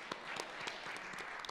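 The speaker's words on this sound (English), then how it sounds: "So let's give a round of applause for all of you and our moderators." Applause from a conference audience honoring panelists and moderators at an art and accessibility gathering, a steady, diffuse wash of many hands clapping at moderate distance throughout.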